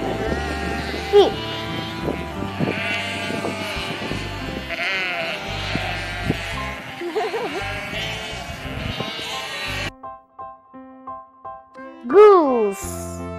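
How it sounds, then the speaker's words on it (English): Sheep bleat as a wavering baa, mixed with music and a voice at first, then a loud bleat stands alone near the end. "Sheep."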